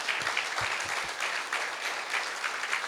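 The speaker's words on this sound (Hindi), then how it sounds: "उनके लिए जोरदार तालियां।" Loud applause from an audience at a motivational business talk, many hands clapping in a steady dense wash with a few louder low thumps near the start.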